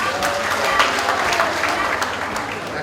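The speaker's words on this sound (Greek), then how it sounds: "Ένα μεγάλο χειροκρότημα." An audience applauds at an evening Greek community association gathering in Northcote, Melbourne: a burst of dense, close clapping lasting a few seconds.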